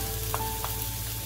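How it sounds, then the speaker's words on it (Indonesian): Chopped garlic sizzles in olive oil over medium heat for fried wheat-flour prawns, a loud continuous frying crackle with two brief clinks partway through and no talk. "Kita tumis-tumis sampai harum,"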